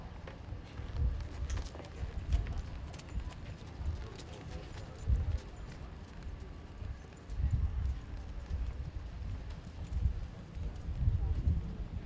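Horses jog in a western class arena at the Fulton County 4-H fair, their hooves giving a soft, steady rhythm of clip-clop beats at moderate distance with ambient murmur in the background.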